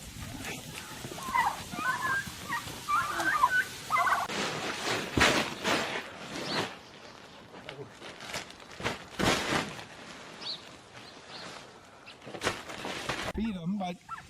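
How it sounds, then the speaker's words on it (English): Farm turkeys gobble in short, repeated bursts, near and fairly loud, while people talk and call out over them. "They're just turkeys."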